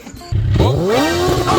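Motorcycle engine on a group ride in Japan near Mt Fuji starts up and revs, its pitch climbing steadily and then holding at a loud, close growl.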